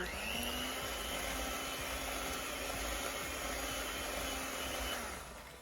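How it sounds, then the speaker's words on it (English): Electric hand whisk running steadily in a mixing bowl for a lemon cheesecake, a continuous close whirring motor drone at constant speed, fading slightly at the end, with no talking. "When you turn on the whisk, make sure that the whisk is touching the bottom of the mixing bowl before you start."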